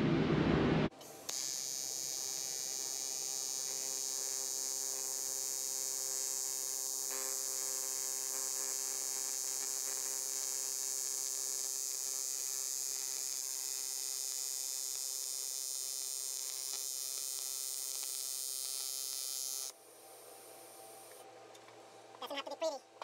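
A power tool shaves down metal before spot welding for a radiator coolant overflow install on a G23 VTEC swapped Civic, holding a loud steady high whine for most of the clip before stopping.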